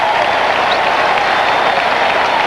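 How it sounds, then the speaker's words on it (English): A stadium crowd cheers and applauds after a big hit on a completed pass at a 1991 Cleveland at New York Giants football game, a dense, sustained roar. "the crowd cheers"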